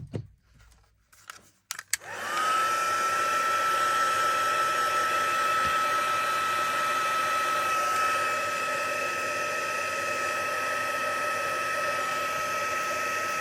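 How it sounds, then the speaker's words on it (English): A hair dryer blows on a grungy junk journal page, switching on after a couple of seconds of small handling clatter, then running as a loud, steady whine with a faint tonal hum and no talking. "I'm gonna have to get the dryer, aren't I?"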